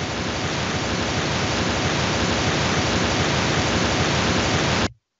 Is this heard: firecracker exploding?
no